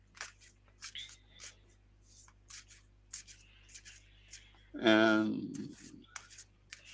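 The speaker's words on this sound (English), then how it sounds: "I am shuffling the cards." Tarot cards being shuffled close to the microphone, a brief burst of dense riffling and flapping about a second long, preceded by quiet scattered handling sounds and a single spoken word.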